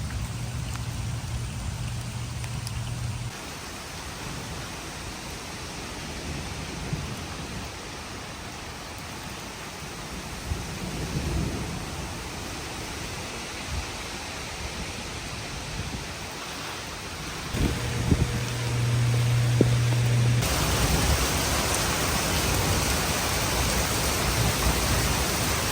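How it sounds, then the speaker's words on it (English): Steady rain falls outdoors in a garden among potted annuals, a dense continuous hiss with low rumbles of thunder under it, unbroken and fairly loud throughout. "just in time because it's starting to rain."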